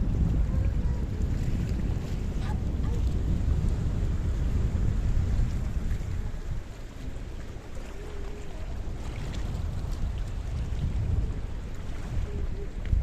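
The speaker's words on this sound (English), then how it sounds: "Mr. Paul, the wind is so strong." Strong coastal wind on a beach in Paphos, Cyprus, buffeting the microphone in a continuous loud roar with gusty low rumble, almost no voices.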